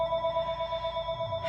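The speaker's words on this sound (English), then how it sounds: "Please excuse the phone ringing." A telephone ringer sounds a steady, warbling electronic ring that pulses rhythmically through the whole stretch, moderately quiet and alone without talk.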